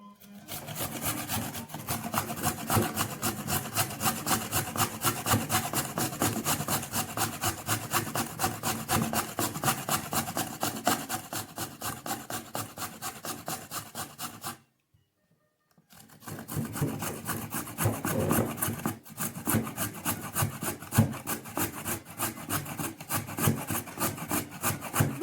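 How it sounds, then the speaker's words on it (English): A carrot is grated by hand for a carrot raisin salad. Quick, rhythmic rasping strokes repeat continuously and close up, with a brief pause midway before the scraping resumes. "I'm going to grate my next carrot."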